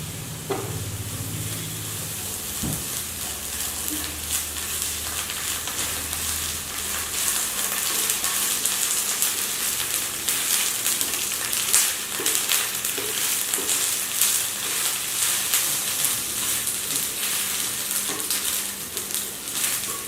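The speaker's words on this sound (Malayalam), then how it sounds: "ഉള്ളി വാടിത്തുടങ്ങുമ്പോൾ ഇഞ്ചി അരച്ച പേസ്റ്റ് ഒരു ശകലം അതിലോട്ടിടുക." Onions with a little ground ginger paste fry in a pan, a steady close sizzle and crackle throughout that swells after the first few seconds and holds loud to the end, with no talking.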